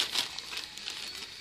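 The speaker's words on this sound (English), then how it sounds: "Are you mad at the magazine, Eve?" A baby crumples and tears a magazine, giving faint, close paper crinkles and rustling scratches in short irregular bursts at low volume.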